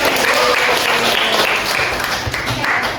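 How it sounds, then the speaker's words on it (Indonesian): A classroom of high school students gives a dense burst of applause that fills about three seconds at steady loudness, with a few faint voices mixed in. "Oke, beri tepuk tangan dulu."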